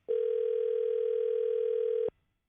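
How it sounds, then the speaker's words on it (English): A steady electronic telephone tone sounds on an outgoing call, holding one even pitch for about two seconds before cutting off cleanly into silence. "I'm calling Big Scary Ron. Let's see if Big Scary Ron picks up the phone"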